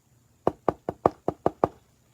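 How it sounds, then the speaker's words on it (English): Seven sharp knocks on a door come in a quick, fairly even run, close by and distinct against near silence. "had there not come a tapping, rap-a-tap rapping on his door"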